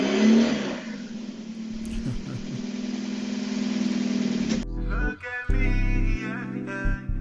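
A car engine holds a steady, rumbling drone, then the tone shifts abruptly to a deeper, uneven revving as the vehicle moves past close by.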